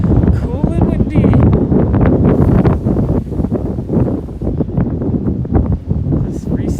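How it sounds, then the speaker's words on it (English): Cool, windy weather outdoors on a Williamsburg, Brooklyn street buffets the microphone with low rumbling gusts throughout, while people talk over the wind. "It's cool and windy"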